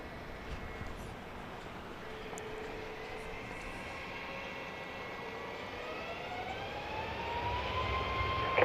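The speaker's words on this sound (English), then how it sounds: "Now we get flight 2248 to Columbus, Ohio, a MAX 8 as well." A Boeing 737 MAX 8 jet roars down the runway and climbs away at Dallas Love Field, a broad steady engine rumble with a rising whine that swells toward the end, heard from a distance.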